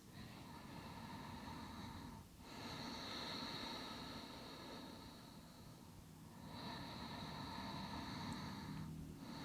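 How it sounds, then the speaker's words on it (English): Slow, deep breathing during a beginner yoga relaxation, long airy inhales and exhales alternating in a steady rhythm, soft and close, with no talking. "just listen to the sound of the breath for just a few more breaths"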